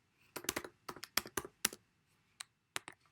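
Typing on a computer keyboard, a quick run of crisp key clicks in uneven bursts with short pauses, close and fairly quiet with no talking.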